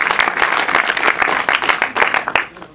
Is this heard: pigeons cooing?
no